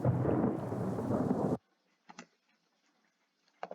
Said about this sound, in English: Then we've got this little thunder thing to start off.